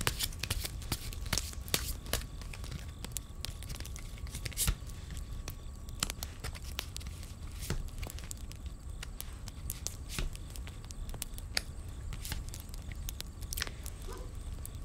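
Tarot cards are shuffled by hand, a dense run of crisp riffling and shuffling clicks continuing steadily and up close, fairly quiet, with no talk.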